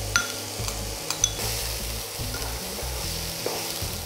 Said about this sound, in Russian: Отправим в разогретое масло лук,